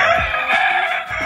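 A brooding hen sitting on eggs gives a few low, throaty clucks up close, short guttural pulses against a steady bright background hum.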